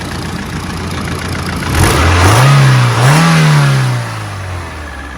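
A Rover 200 BRM limited edition engine with a new starter motor idles loudly up close, then revs up twice in quick succession before settling back toward idle.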